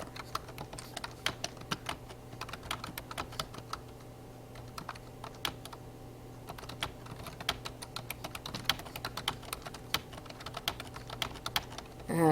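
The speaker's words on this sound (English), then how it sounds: "it's hard to type and talk all at the same time" Quick, uneven key clicks come from a computer keyboard in bursts over a low steady hum, close and quiet, with no talking until a louder thump at the end.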